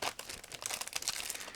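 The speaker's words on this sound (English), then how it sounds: "now I just need to tear apart this plastic bag" Plastic bag wrapping a model kit being torn open by hand, a short burst of close crinkling and crackling lasting under two seconds.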